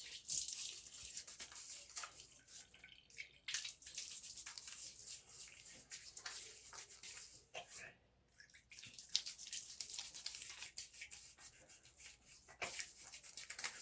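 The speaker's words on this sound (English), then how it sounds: "Let me put this blue water on my face and we shall get cracking." Blue water splashed onto a face while washing makes a close, continuous wet rushing and splashing that briefly pauses midway.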